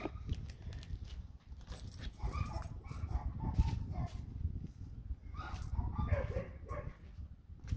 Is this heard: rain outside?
no